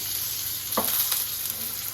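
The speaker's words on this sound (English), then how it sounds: "want to try and get that nice sort of sizzle going on" Steak laid into hot canola oil in a pan gives a steady, close sizzle with a brief sharper crackle as the meat hits, running alone without talk.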